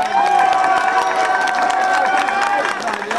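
Audience at a Polish stage show cheering and clapping in a loud, dense crowd roar, with a sustained tonal voice or whistle riding over the noise close to the microphone.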